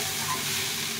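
Spiced pumpkin sizzles in a hot pan as water is poured in for a Bengali pumpkin ghonto, giving a steady, close frying hiss that stays even for the whole moment.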